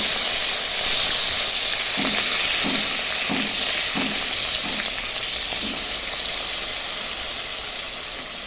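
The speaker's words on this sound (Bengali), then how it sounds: "কড়াইয়ে তেল গরম হয়ে গেছে," Katla fish pieces fry in hot oil in a wok, a loud steady hissing sizzle with a series of soft, evenly spaced taps and spatters.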